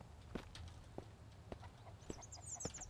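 Chickens cluck in the survival video game Mist Survival, a few short scattered calls over steady ambient game noise, with a brief high chirping or rattling sound toward the end.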